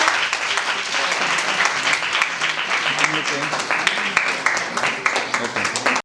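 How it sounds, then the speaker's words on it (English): Children in an audience clap loudly and steadily for a woman receiving a token on stage at a Swami Vivekananda Jayanti event, a dense rattling applause with voices talking underneath. "Children, please clap for her."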